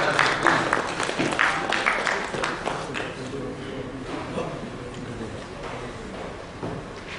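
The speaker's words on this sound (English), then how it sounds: "A round of applause for Ma'am Rachna Dixit, please." Audience applause at a payment systems conference session as a Reserve Bank of India general manager is welcomed on stage, a steady broadband clatter of many hands filling the room for several seconds before gradually thinning.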